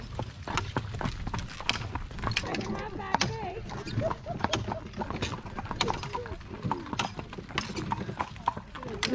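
Horse hooves clip-clop steadily on a hard surface, a brisk rhythmic series of sharp clacks, with faint talking and a distant whinny in the background.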